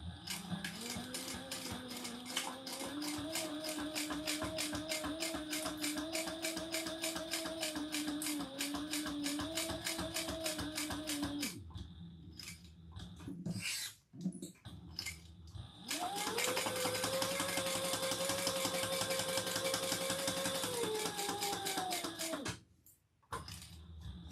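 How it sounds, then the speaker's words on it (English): A sewing machine stitching down the sides and bottom of a piece, running in two long motor bursts with a steady whirring hum, separated by a short pause with light handling clicks. "now we're going to sew down the sides and the bottom and back up"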